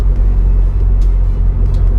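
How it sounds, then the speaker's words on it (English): Low, steady exhaust burble from a modified 2009 Vauxhall Corsa VXR with a Scorpion exhaust, cruising in sixth gear; a loud, continuous deep rumble with no voices. "Apart from the burble from the Scorpion exhaust system"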